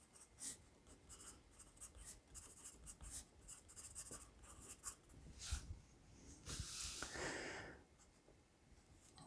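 Dixon Primary Printer No. 2 pencil scratching across paper in close, continuous strokes, with brief pauses and shifts in pressure, a soft dry graphite rasp throughout.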